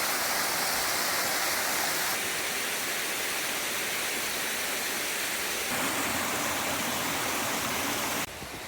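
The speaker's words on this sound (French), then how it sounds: "On est arrivé devant la fameuse cascade et on n'est vraiment pas déçus." A waterfall pours in a dense, continuous roar, loud and close, filling the whole scene as one steady rush of falling water with no voices.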